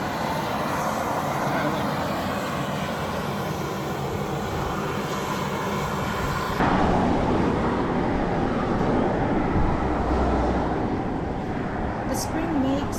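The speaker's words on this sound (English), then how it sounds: "The spring makes this loud whistling sound that it almost sounds like a jet plane taking off." Beryl Spring, a Yellowstone hot spring, vents steam in a loud, continuous jet-like whistling roar that stays dense and unbroken, swelling slightly stronger midway.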